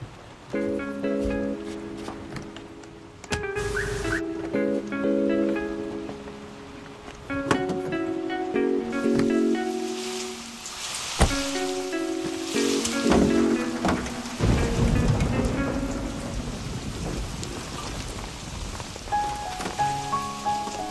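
Steady heavy rain hisses throughout, and low rumbling swells in the second half suggest thunder. Music-like tones are also heard in the background.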